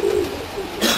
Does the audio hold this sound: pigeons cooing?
yes